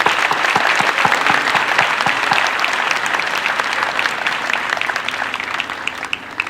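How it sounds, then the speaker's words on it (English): Graduation audience applause for a student speaker, a dense, loud, sustained roar of many hands clapping that carries on steadily and tapers slightly toward the end. "One more time, round of applause for Anthony."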